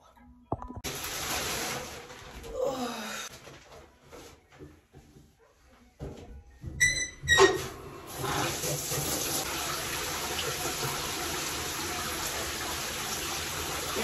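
Bath water gushes steadily from a tap at home for a toddler's night routine, with softer handling noises and a few scattered voices before the loud, continuous rush starts and holds.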